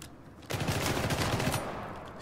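Dense, continuous gunfire from the Syndicate co-op shooter bursts in after a quiet half second and keeps rattling at close range, loud and sustained to the end.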